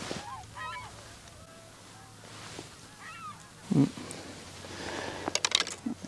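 Faint honking calls of geese, with swans among them, carry from a distance over quiet background noise, with a few scattered sharp knocks.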